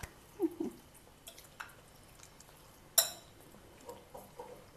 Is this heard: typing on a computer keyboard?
no